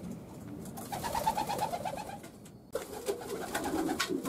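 Pigeons coo repeatedly inside a racing-pigeon loft, a low rhythmic burbling that carries on steadily at close range over faint ambient noise.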